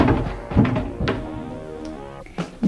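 A cabinet door in a resort bathroom at Rosewood Baha Mar in the Bahamas closes with several close, dull wooden thunks and small knocks, spaced irregularly amid quiet handling noise.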